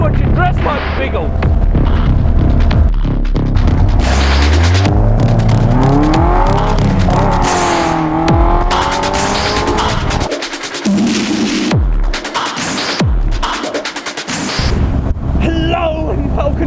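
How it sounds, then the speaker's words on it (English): A Westfield sports car drives without a windscreen, its engine droning under heavy wind buffeting and roaring air rush, with thumps and gusts; someone talks loudly over the din. "What's it like driving a car without a windscreen?"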